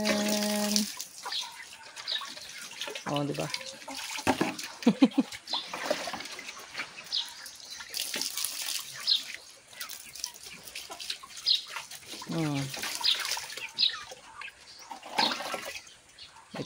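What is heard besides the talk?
tap water filling the chickens' water container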